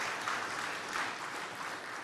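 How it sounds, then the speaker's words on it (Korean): Steady applause from a crowd, a dense even patter of clapping that holds at the same level throughout. "큰 박수 부탁드리겠습니다"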